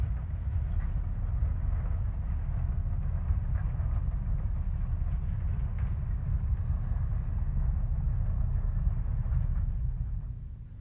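A steam locomotive digs in at Lobato for the 4% climb to Cumbres, giving a steady, heavy, continuous low rumble that holds throughout and eases off at the very end.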